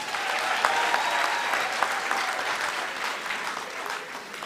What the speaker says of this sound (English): So give yourselves a round of applause